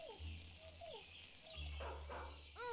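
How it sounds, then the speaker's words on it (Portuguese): An angry dog barks and yips in the UP video game, giving a few short, fairly faint bursts over a low steady game hum. "Esse cachorro tá muito brabo."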